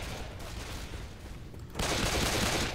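Video game gunfire in Left 4 Dead 2 erupts in a loud, sustained burst of shots after a quieter stretch of ambient noise.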